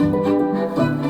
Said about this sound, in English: And what you're hearing right now are strings